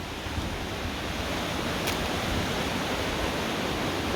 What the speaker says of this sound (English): the water is making a lot of noise